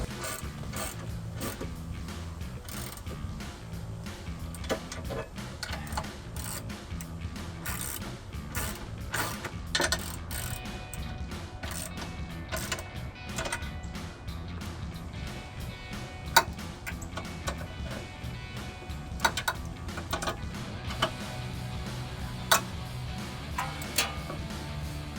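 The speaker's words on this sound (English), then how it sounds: "So we're just going to tighten this down with a 19mm socket." A ratchet with a 19mm socket tightening the bolts of a RedRock HD tubular rear bumper on a Jeep Wrangler JK, rapid clicking in bursts over a steady low hum, close and continuous for the whole stretch.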